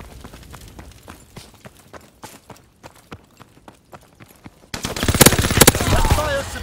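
Machine gun fire in Call of Duty WW2 team deathmatch: evenly spaced single shots, then a loud, dense sustained burst erupts toward the end.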